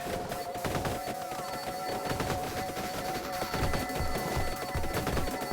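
Rapid game gunfire from a character shooting in Vampire Survivors on PS5, a dense steady stream of small shots layered over busy music and effects, with no talking.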